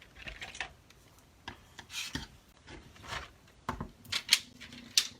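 Scissors snip through paper cardstock for a triangle gate-fold card, several quick, close, crisp cuts with short scraping rubs between them and no talking.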